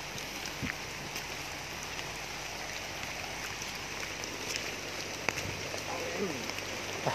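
Steady rain falls outdoors during a search operation, a dense even hiss with scattered drops and faint knocks throughout, with no voices over it.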